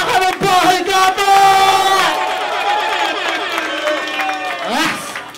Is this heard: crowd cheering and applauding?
yes